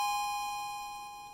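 A school bell rings for the start of class: a single steady, bright metallic tone that slowly fades over about a second and a half, heard alone with no voices.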